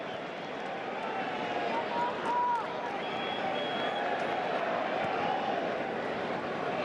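Stadium crowd at a preseason soccer match between FC Barcelona and Juventus, a steady broad roar of cheering that stays fairly even throughout, with commentary over it.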